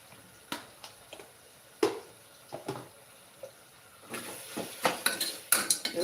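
Clinks and scrapes of a spoon against a pan as ground ginger-garlic paste is added and stirred while cooking vegetable kurma, irregular metallic knocks that grow busier toward the end.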